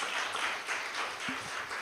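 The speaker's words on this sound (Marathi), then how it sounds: "टाळ्या जबरदस्त आल्या पाहिजे प्रभूसाठी." A church congregation breaks into sustained applause for the Lord, with dense overlapping clapping from many people throughout and a faint low thump near the end.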